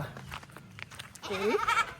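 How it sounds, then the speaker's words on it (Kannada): A young goat kid bleats in a home setting, a wavering cry rising near the end of the brief clip over low background noise and scattered faint sounds. "ಇದು ಆಡು ಮರಿ. ಮೇ ಅಂತಾನೆ."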